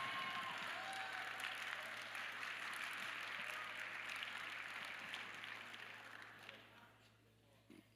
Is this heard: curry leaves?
no